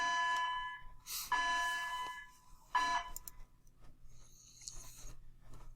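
An electronic school bell rings in three bursts of steady tones, each lasting about a second, with quieter rustling between and after them.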